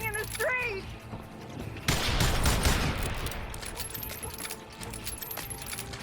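Gunfire erupting in a street shootout in the Old West video game Call of Juarez Gunslinger, a loud burst of shots and ricochets, preceded by a brief voice and bird-like chirps, then trailing off into scattered noise.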